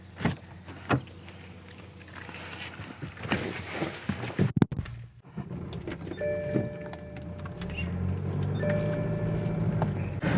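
A BMW 328d diesel wagon starts with close clunks and door or window handling sounds, then settles into a steady engine and road hum as it drives, with a faint tonal whine.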